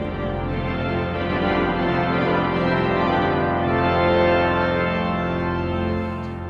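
The reed stops of the York Minster pipe organ, with the west shutters open, sustain a rich, brassy chord that swells slightly and then eases, loud and resonant in the cathedral space.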